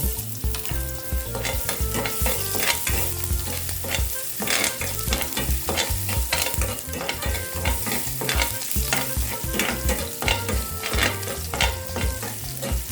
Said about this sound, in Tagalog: So ngayon guys, maggigisa na tayo ng bawang.